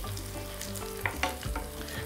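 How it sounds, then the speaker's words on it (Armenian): Chicken breast fries in a pan, cooked Thai style, giving a continuous close sizzle with a couple of brief louder crackles and pops near the middle and no voices. "մի փոքր էլ թող տապակվի"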